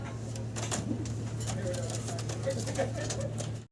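Bombay pigeons coo softly amid a busy market-like background, with a steady low hum running throughout and scattered bird calls, the cooing fairly faint and blended into the surrounding noise.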